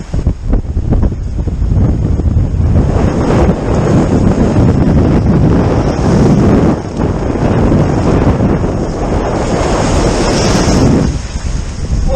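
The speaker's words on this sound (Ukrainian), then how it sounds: "Море хвилюється" Rough waves on the Black Sea crash near the shore while strong wind buffets the microphone, forming a loud, continuous roar with no speech.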